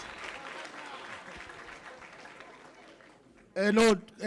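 An audience at a university event claps steadily at moderate volume for about three seconds, with a sudden loud voice calling out near the end.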